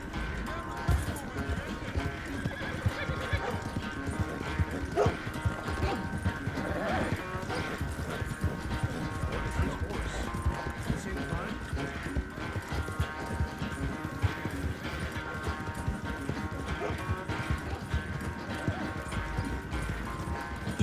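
A horse gallops in Red Dead Redemption 2, hooves pounding in a fast steady rhythm throughout with whinnies over the top and other game sounds layered in, while a person talks at times.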